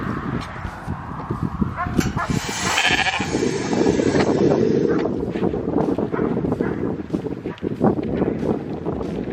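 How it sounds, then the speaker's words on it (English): Several goats bleat loudly and frantically close by at feeding time on a small farm that also keeps sheep. The calls overlap with farmyard noise throughout. "Here go the goats. The goats still frantic."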